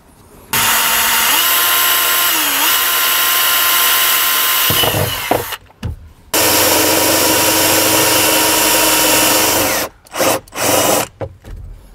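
A power drill bores a pilot hole through a trailer or vehicle panel, whining loudly and steadily, then stopping briefly before a second long run and a few short bursts.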